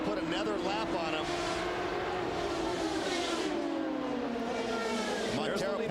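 Champ Car race cars at the London Champ Car Trophy scream past with rising and falling engine whines, a steady wall of loud racing noise throughout, with a commentator talking over it.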